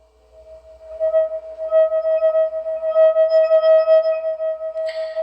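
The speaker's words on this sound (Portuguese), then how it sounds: "é a frequência de ressonância dessa taça." Wine glass ringing at its resonance frequency, a pure sustained tone that swells in after a second and holds steadily with faint overtones, clear and alone with no voices.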